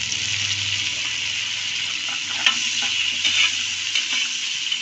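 Green chillies and ginger-garlic paste frying in a pan for mushroom biryani, a steady close sizzle with a few stirring scrapes and clinks, no talk.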